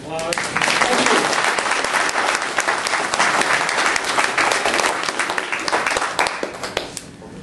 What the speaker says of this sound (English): Let's give Bob a round of applause.